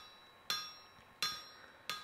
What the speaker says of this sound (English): I will thin it a little further using a turning hammer.